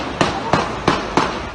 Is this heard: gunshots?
yes